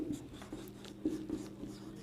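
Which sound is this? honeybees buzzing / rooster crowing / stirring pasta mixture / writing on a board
writing on a board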